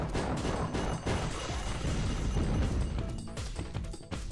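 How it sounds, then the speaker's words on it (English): Rocket explosions in the Unreal beta video game: a loud, dense run of bursts, crashes and pops that carry on without a break for several seconds, with no voices over them. "Would you listen to those explosions from his rockets?"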